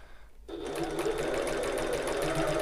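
A sewing machine stitching through the layered gusset of a fabric bag starts after a brief silence and runs steadily with a rapid, even mechanical chatter, close and prominent.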